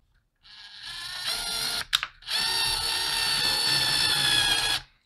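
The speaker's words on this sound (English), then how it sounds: "We're just going to simply drill it right into the plug" A cordless drill whirs loudly in a short burst while driving a screw into a plastic plug, pauses briefly, then runs again in a longer steady high-pitched whine before stopping.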